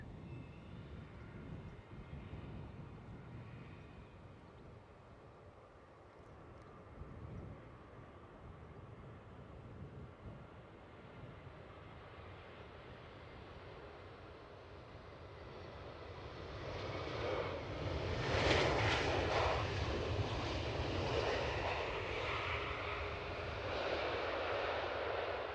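A Vueling Airbus A320 jet at Edinburgh Airport, bound for Barcelona: a distant low engine rumble that swells into a louder, broader roar in the second half as the aircraft draws nearer.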